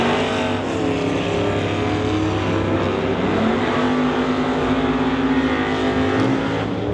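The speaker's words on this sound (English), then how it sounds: "Herman Chen, Mark Downing racing it out now to the quarter mile" Drag racing cars run down the quarter mile at an NHRA Summit ET Series event, a loud and steady engine roar that fills the whole stretch without a break.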